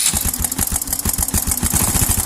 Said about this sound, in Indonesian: Oke, motornya udah nyala, tapi suaranya kasar sekali.